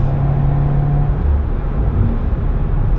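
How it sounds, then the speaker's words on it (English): A turbocharged 268 hp 2018 Subaru WRX Limited Edition engine with an STI exhaust drones and revs steadily with a deep rumble and whir, continuous and close, no voices. "Once that turbo kicks in, this just wants to rev and rev."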